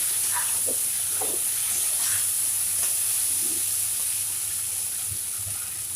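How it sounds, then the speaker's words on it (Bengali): Water is poured into spices frying in a hot pan, giving a steady, loud, close hiss and sizzle that holds evenly throughout with faint clatter underneath. "এখন আমি জল দিয়ে দিব"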